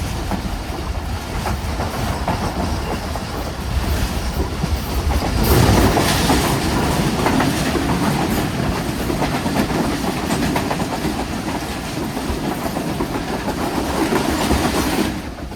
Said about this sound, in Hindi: 4:20 हमारी ट्रेन अप्रोच बना रही है टंडो आदम जंक्शन रेलवे स्टेशन पर